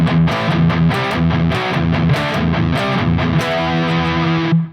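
Distorted electric guitar plays an 80s heavy metal diatonic pattern, a fast, steady run of picked notes climbing and stepping back, loud and close with no voices, ending on a held ringing note.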